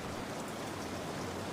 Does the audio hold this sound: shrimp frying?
no